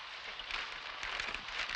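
Steady rain falling outdoors, a dense soft hiss of drops pattering on surfaces, continuous and moderately faint with no voices.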